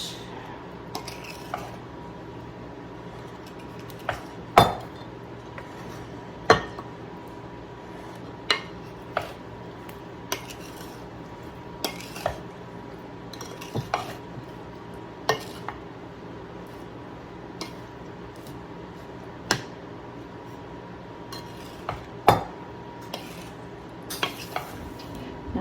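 A peach crisp filling is mixed in a bowl, with repeated soft scraping and sharp clinks of a utensil against the bowl in an irregular rhythm, close and moderately quiet.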